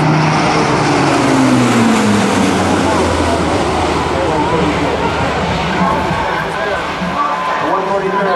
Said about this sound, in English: Here comes the C-130J at a high speed pass.